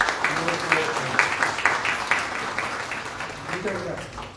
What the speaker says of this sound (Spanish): vamos a darle un fuerte aplauso junto con nuestras autoridades para darle una bienvenida a nuestro país